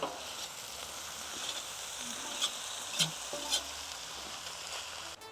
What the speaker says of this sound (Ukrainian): Зараз таджики ми перемішуємо.